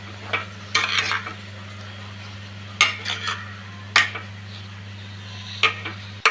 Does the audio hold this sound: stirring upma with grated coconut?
yes